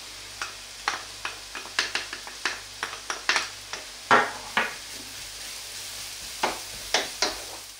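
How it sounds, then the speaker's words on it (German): Spring onions and garlic frying in butter in a pan, with a soft steady sizzle underneath repeated sharp scrapes and clicks of a utensil stirring, about a dozen light strokes at a brisk irregular rhythm, close up. "In dieser Butter braten wir anschließend die Frühlingszwiebeln an"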